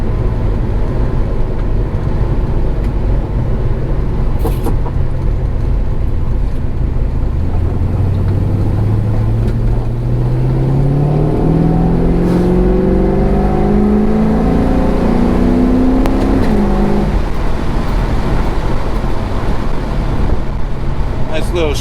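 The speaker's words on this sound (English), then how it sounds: "we're gonna start in second gear just to do a little wide open throttle pull" An LS-swapped 1973 Chevrolet Nova in a wide-open-throttle pull from second gear, the V8 engine rising steadily in pitch, loud and close, then dropping sharply at the shift, with someone talking over it.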